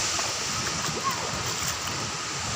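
Water splashes and rushes at Niludhan Falls, a steady, moderately distant roar of falling water heard beneath a person talking.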